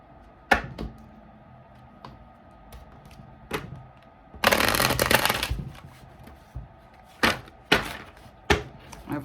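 Tarot cards being shuffled by hand, with a long riffling burst in the middle and sharp snaps and flicks of cards on either side, close and fairly loud, with no talking.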